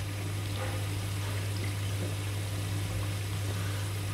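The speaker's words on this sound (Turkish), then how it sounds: "Şimdi de tamamen çözülüp gitsin diye efendim bir 10 dakika akarsu altında yıkayacağız." Tap water runs steadily in a continuous broadband rush as orchid tissue culture is rinsed under the flow for several minutes, with a constant low hum underneath and no talking.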